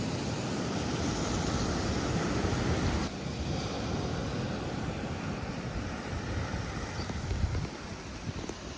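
Surf washing steadily onto a beach during a road trip, a continuous broad rush of breaking waves with wind noise buffeting the microphone, fairly loud and unbroken throughout with no talking.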